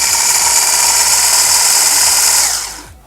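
A healthomse 5-in-1 immersion hand blender runs on its turbo setting with a loud, steady motor whine, then spins down and fades out in the final half second.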